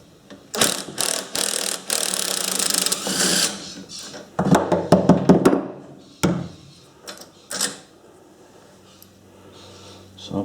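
A ratchet clicks rapidly in several runs while undoing a high tensile bolt on a post hole drill gearbox, with metallic taps and clunks between the bursts, close and loud.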